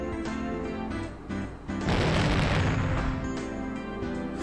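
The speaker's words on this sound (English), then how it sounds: "An explosion of pure white lime burst out the window." A loud burst of pure white lime explodes out of a window in the Higurashi game, a sudden dense roar that swells and then lingers briefly, with no talk over it.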